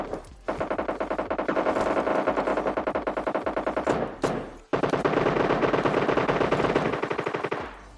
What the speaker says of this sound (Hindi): तो फिर यहाँ तुम गोलियों की आवाजें सुनो बैठकर, जो कि कुछ ज्यादा ही गोलियां चलने वाली हैं।